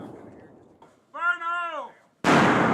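A C4 charge detonating in the Army video game, heard after a voice shouts a warning, as a sudden loud, broad blast that stays sustained to the end.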